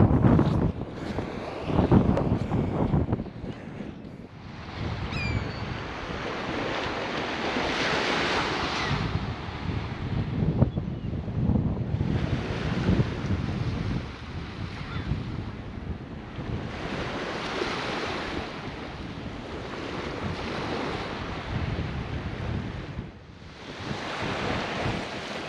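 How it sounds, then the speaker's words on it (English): Strong wind buffets the microphone over steady ocean surf on an overcast beach during surf fishing, with waves washing in and rolling surges every few seconds, loud and continuous with no talk. "I wish it wasn't quite so windy"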